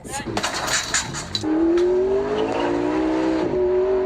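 A sports car revs hard and speeds away, the engine note climbing in a sustained strained howl after a burst of clatter and voices, loud and close, with people shouting over the start.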